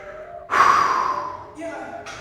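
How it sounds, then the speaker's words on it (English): Deep breathing during an upper-body strength workout: one loud, close inhale, then a long fading exhale, followed by the start of another breath. "Couple inhales and exhales."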